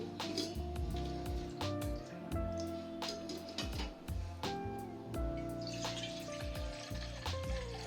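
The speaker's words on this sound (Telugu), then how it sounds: "అది ఆ గ్లాస్ ఫుల్ వాటర్ పోస్తున్నానండి" A full drinking glass of water poured into a cooking pot while making sweet pongal, a steady splashing pour lasting several seconds over a busy kitchen background with some tonal sounds.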